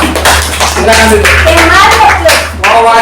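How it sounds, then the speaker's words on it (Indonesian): Students in a classroom clapping, a short burst of close applause under a voice speaking briefly, with a low steady hum beneath. "Tepuk tangan dulu."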